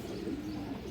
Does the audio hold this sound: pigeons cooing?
yes